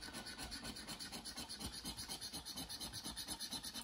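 £2 scratch card being scratched off, a quiet rapid rhythmic rasping that repeats steadily throughout with no talking.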